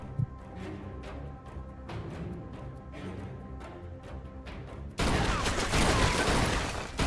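Sustained gunfire from shooters in Mafia II, a dense run of shots in the first five seconds that gives way to a loud, roaring burst of intense fire and chaos in the final two seconds.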